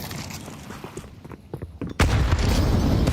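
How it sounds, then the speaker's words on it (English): Grenades detonate in a Counter-Strike professional esports match, with muffled booms and scattered gunfire building to a heavy, loud blast near the end. "Oh, big nades."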